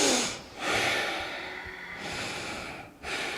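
Breath exhaled during a yoga session, several long airy exhalations and inhalations close to the microphone, soft and rhythmic with brief pauses between breaths.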